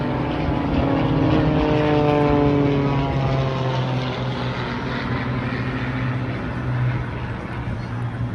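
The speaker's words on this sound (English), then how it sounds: "The Northern Stars fly the famous Pit Special, designed by Curtis Pitts, to win aerobatic contests." A Pitts Special aerobatic biplane flying at a waterfront airshow, its propeller engine droning loud and sustained with pitch sweeping as it passes, carrying over faint crowd background throughout.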